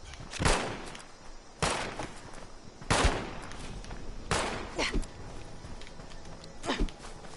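Gunshots in the online video game Fallout 76 during a player-versus-player clash, five or six separate loud bursts spaced a second or so apart over a low background hum.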